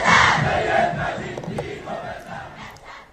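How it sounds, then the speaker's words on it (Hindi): A large crowd in the streets of Tehran chants slogans in a dense, roaring mass of voices with rising and falling surges, loud and close throughout. "नीचे सड़कों पर हजारों की भीड़ नारे लगा रही थी"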